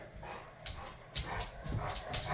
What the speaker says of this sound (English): she has the dog bed in her mouth running with the zoomies